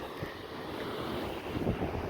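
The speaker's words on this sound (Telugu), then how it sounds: "చూడండి వేవ్స్ చూడండి" Soft ocean surf washes in and out at a distance, muffled under a steady rush of wind against the microphone.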